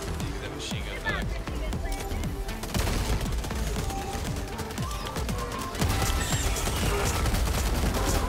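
Rapid machine-gun fire in the co-op shooter Helldivers 2, a dense stream of shots with rattling bursts that keeps going the whole time, loud and close under a busy battle mix, with voices talking alongside.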